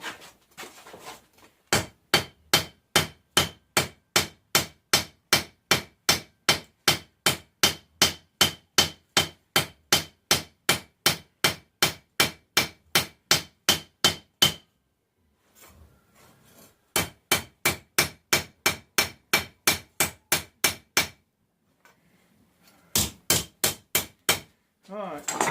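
Steady, rapid hammer blows ring out in long regular runs while a farrier rasp is forged into a rough knife blank at a forge, with brief pauses between the runs and no talk.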